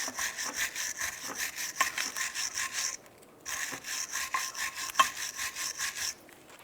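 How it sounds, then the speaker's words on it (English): A wire brush scrubs scaly rust off the brake pad abutments of a 2011-2019 Ford Fiesta front brake bracket in rapid back-and-forth strokes, close and rasping, with a brief pause midway. "I'm going to take your wire brush and we're going to clean right where those metal tins were for your brake pads"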